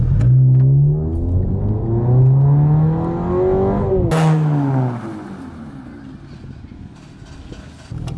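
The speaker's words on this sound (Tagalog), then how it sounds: "narinig nyo naman mga homies, gumana na yung exhaust natin" Honda Civic RS Hybrid with an aftermarket exhaust revving: a loud, close engine note climbs and falls in pitch through two rev sweeps, then settles to a quieter idle, with no talk.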